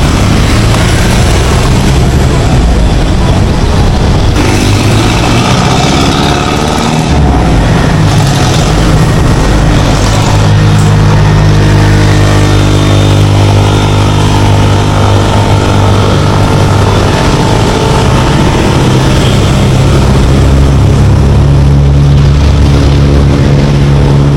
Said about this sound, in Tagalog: Traffic malala dito mga idol.